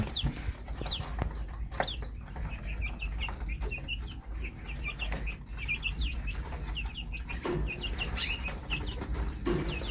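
Several quail cluck and chatter continuously nearby, with scattered higher calls over a low steady rumble.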